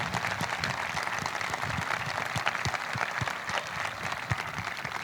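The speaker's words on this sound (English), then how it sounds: "And yes, please clap for him." Audience applause at a high school graduation ceremony, a steady dense wash of many hands clapping throughout, fairly loud and continuous with no voices standing out.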